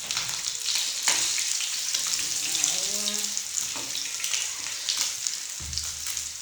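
Fish fries in a pan at home, a steady loud sizzle and crackle running throughout, with faint stirring and clatter near the end.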